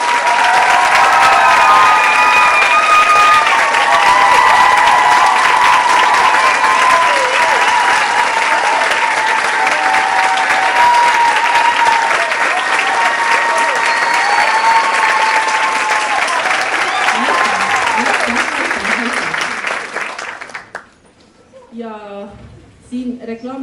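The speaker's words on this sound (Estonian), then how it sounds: "et need aplausi on väärt" Loud, sustained applause with scattered cheering from graduating students at a school graduation ceremony, steady for about twenty seconds before fading into a few scattered claps and murmurs.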